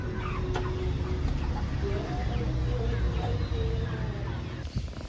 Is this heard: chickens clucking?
yes